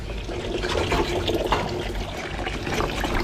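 Oxtail pieces go into a pot of water, producing continuous sloshing and splashing with a steady watery rush, moderately close.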